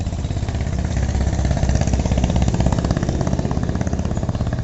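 A cheap mini toy drone flying with its propellers buzzing, a steady close whirring drone with a fast rhythmic flutter that swells slightly midway, no talking.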